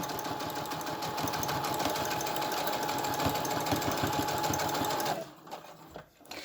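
A sewing machine runs steadily while back stitching patio cushion fabric, a loud continuous mechanical whir with rapid needle chatter, then it stops abruptly near the end, leaving a few soft handling noises.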